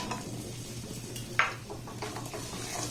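Cashews and raisins frying in a pan while being stirred, a soft sizzle under light scraping of a spoon, with one sharp clink of utensil against the pan.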